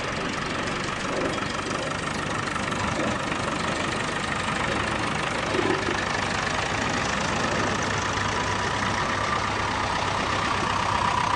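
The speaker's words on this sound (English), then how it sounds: "tractors are coming in from all directions." Farm tractors arriving at a ploughing match, a steady broadband engine drone with idling rumble that stays loud and continuous throughout, no voices.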